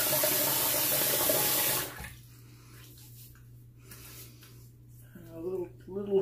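Running tap water rinses off after a shave, loud and close for about two seconds, then cuts off, leaving quiet room tone and a voice.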